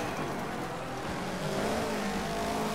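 A rally car's engine at full throttle in Dirt 3, a continuous loud roar that swells and climbs in pitch as the car accelerates, with gravelly road noise beneath and no talk.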